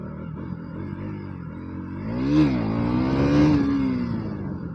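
A motorcycle engine revs hard during a wheelie attempt in the rain, climbing in pitch twice and holding a loud, steady roar close by.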